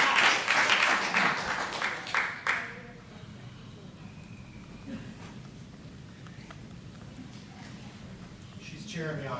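A city council meeting audience claps and cheers in a burst that fades after a few seconds, followed by murmuring and a voice speaking.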